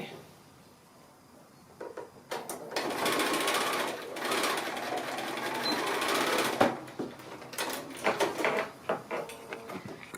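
A sewing machine stitches the side seams of a large drawstring bag made from a fat quarter of fabric. It runs in short, uneven bursts of close, rattling stitching, separated by brief pauses and clunks.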